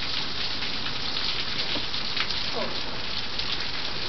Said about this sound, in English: It couldn't stop raining.